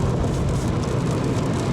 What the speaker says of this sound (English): got some rain picking up out there.